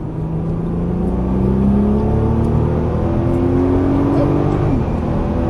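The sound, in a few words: sports car engine accelerating on race track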